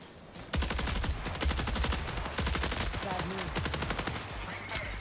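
Rapid automatic weapon fire in the video game Marathon, a loud, sustained stream of fast regular shots with a short pause partway through and faint voices underneath.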